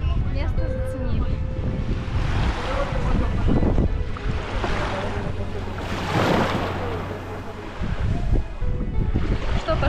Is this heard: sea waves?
yes